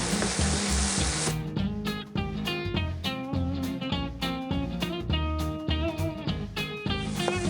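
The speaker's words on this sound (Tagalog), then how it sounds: "Pwede na nating ilagay yung garlic" Garlic sautéing with onion and tomato for a spicy eggplant stir-fry, a hissing sizzle heard mostly at the start and end, with rhythmic music playing over it.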